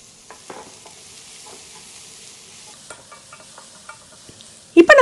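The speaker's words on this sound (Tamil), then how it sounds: "முதல்ல கேரட் சேர்த்து ஒரு வதக்கிக்கலாம்." Carrots stir-fried on high flame in a pan for mixed vegetable fried rice: a faint sizzle with light scattered stirring taps and scrapes, then a sudden loud clatter of the utensil at the very end.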